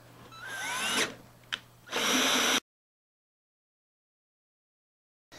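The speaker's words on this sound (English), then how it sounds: "take your 1-inch hole saw, drill your hole about 2 inches up from the base" A 1-inch hole saw bores into a bucket for a Dutch bucket hydroponics build: two loud, close bursts of whining drilling with a short pause between them, then sudden silence.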